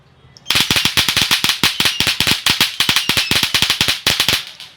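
A string of series firecrackers at the Diwali market in Sanganva Chowk bursts in a rapid, loud run of sharp cracks, dozens of pops in quick uneven rhythm lasting several seconds, close by with no talk.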